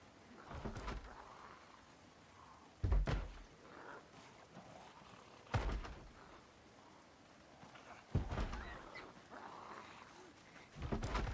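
Zombies in Project Zomboid pound on a door in heavy, widely spaced thuds about every two and a half seconds, each blow loud and booming over a low background murmur.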